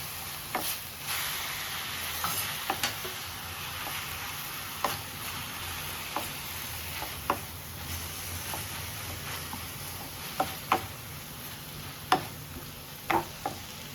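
Sorrel leaves (puLicha keerai) sauté in a pan, a continuous close sizzle and hiss punctuated by sharp clicks and scrapes of a ladle against the pan at irregular intervals, with no talking.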